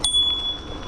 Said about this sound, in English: I'm gonna ding my bell.